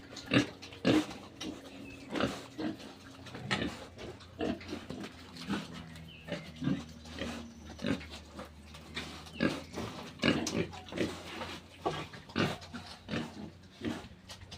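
Young boars raised on a small farm grunt and oink repeatedly in short, irregular bursts, close by, with a steady low background hum throughout.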